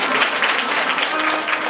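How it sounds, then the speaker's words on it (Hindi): An audience at a Shrimad Bhagwat Katha religious discourse in Dehradun breaks into loud, dense applause, close and continuous throughout the brief moment. "एक बार जोरदार तालियां उनके लिए"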